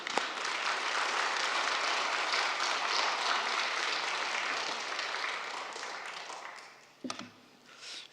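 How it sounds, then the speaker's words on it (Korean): A church congregation applauds steadily for several seconds, dense clapping that fades near the end as a voice briefly begins. "박수로 한번 환영하겠습니다"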